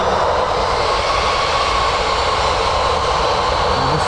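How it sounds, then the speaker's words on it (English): EasyJet airliner engines power up at Birmingham airport with a steady, loud roar and whine that holds at a constant level throughout. "EasyJet's powering back up."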